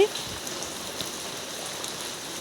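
Heavy rain falls steadily, a dense, even hiss of drops on surfaces nearby with no breaks, over a short stretch.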